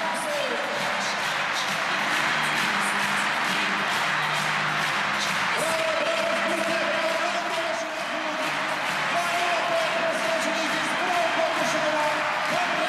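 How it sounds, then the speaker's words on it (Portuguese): Stadium crowd at a track and field World Cup high jump event gives a sustained standing ovation, a steady broad roar of clapping and cheering that fills the whole stretch with a commentator talking over it. "Aplausos de pé para Blanka Vlasic."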